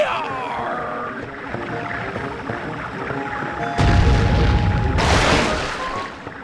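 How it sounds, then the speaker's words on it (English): In the video game Sly 3, a cannonball is fired at a boat. Two heavy, loud booms burst out one after the other, following a stretch of game music and ambient sound. "Once Murray has knocked off the armor, you'll need to sink him with a well-placed cannonball"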